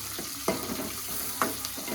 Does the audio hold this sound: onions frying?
yes